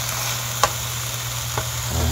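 Pure Foods chicken tocino frying in a pan on an electric cooker, a steady close sizzle throughout with a couple of brief sharp pops or utensil taps.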